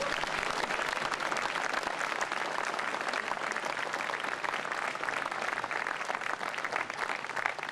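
Sustained audience applause at a graduation ceremony, welcoming a speaker to the stage: dense, steady clapping from a large crowd that holds at an even level throughout without a break.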